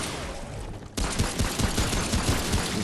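Rapid bursts of gunfire from a gun in the video game Remnant: From the Ashes break in after a brief quieter moment, then continue as repeated close, loud shots.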